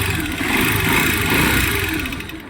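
A motorcycle engine idles steadily while its idle speed is being adjusted, a continuous mid-pitched running hum that holds fairly even and fades slightly at the end, with no talking.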